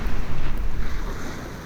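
Ocean waves surge and wash in a continuous rough roar, with gusts of wind buffeting the microphone, loud and close with no voices.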